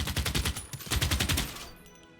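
Rapid bursts of artillery and infantry gunfire crackle in a Civilization 6 multiplayer battle, a dense volley of overlapping shots that fades out near the end.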